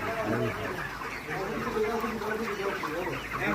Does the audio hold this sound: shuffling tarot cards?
no